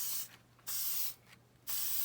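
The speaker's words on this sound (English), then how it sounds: "So you can see I'm just spraying it across." Spray can misting a coating across a pinball machine part, three short bursts of hiss, each about half a second, separated by brief pauses, close and alone.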